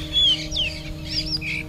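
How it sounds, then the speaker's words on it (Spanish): Birds call outdoors, a few short rising and falling chirps and whistles at moderate distance over a steady low hum, with no voices. "Hay aves que tienen sonidos muy bonitos, hay aves que tienen sonidos muy simples."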